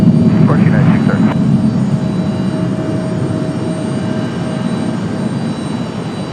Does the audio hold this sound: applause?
no